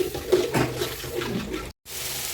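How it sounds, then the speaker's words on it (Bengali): A small amount of water is poured into a cooking pan of spiced masala for duck curry, making a close, splashy rush that runs for under two seconds before a brief cutoff. "এখন সামান্য পরিমাণ পানি দিই।"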